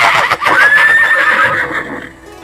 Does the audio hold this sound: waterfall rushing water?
no